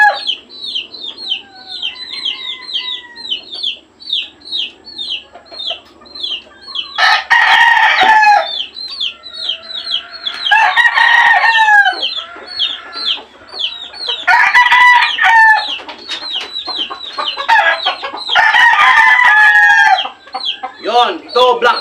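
Black Bonanza gamefowl roosters, island-born and imported, crow loudly and repeatedly nearby over steady clucking and chatter from a flock, with someone speaking at times.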